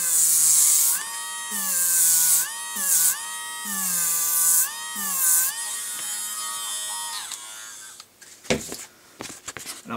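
Battery-powered cordless trimming tool cutting foam edges, a steady high-pitched buzzing whine that rises and dips in short repeated passes for about eight seconds, then stops into a few brief knocks and rustles.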